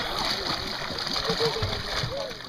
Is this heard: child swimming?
yes